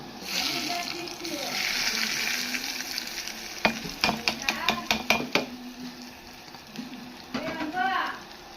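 Rice mixed with masala in a pan: a frying hiss runs under a burst of sharp, rapid scraping and clinking strokes from the spoon midway, then the sizzle settles and a few more scrapes follow near the end.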